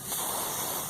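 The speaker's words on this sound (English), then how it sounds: "Now just spray the gold paint on the diya" Spray paint hissing from an aerosol can as gold paint coats an earthen diya, a steady broadband hiss lasting under a second, close and continuous.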